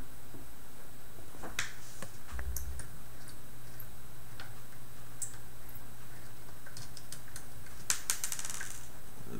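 Small screws come out of a Dagu Wild Thumper robot chassis in scattered light clicks and ticks over a faint steady hum, with a short metallic cluster near the end.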